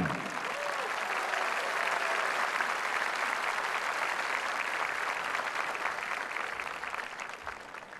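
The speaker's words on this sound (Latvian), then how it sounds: "Sveiksim ar aplausiem!" A huge open-air audience applauds continuously at the 2018 closing concert of the Latvian Song and Dance Festival at Mežaparks, a dense, even roar of clapping that holds steady throughout and eases slightly toward the end.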